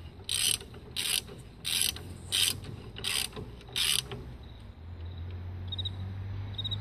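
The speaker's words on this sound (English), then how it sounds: "I'm putting the two steering arm bolts on." Steering arm bolts being tightened with a ratchet on a disc brake bracket during a 12-inch LS1 disc brake conversion on a 1968–74 Chevrolet Nova, six quick bursts of ratcheting clicks, close and fairly loud, then a steady low hum.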